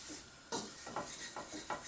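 Food being stirred in a pan over medium heat, a few soft scraping strokes at a slow, uneven rhythm, quiet and close, with no voices.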